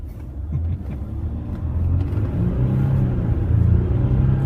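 A 2017 RAM 1500 Limited EcoDiesel pulls hard from a dead stop under full throttle, a low steady engine rumble building gradually inside the cab with a faint whir, no speech over it.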